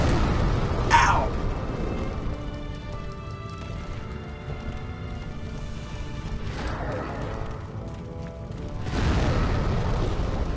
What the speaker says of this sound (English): So those slam attacks are the ones that are, what's it called? Explosions.